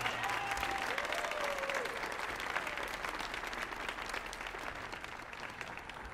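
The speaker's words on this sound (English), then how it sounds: "can we just give them a round of applause?" Concert audience applauding soloists and poets at a stage performance, a sustained even roar of clapping from a large crowd, fairly distant and soft, with a few faint voices beneath.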